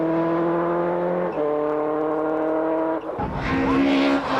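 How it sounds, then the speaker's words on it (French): Four-wheel-drive rally car at a 1999 French rally, engine holding a steady high whine, dropping in pitch at a gear change, then revving hard again, loud and close with no voices. "Marc Champeau fait le spectacle avec sa 4 roues motrices"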